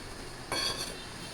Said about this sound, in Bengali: আর এই পাশে বসাই দিলাম কড়াই।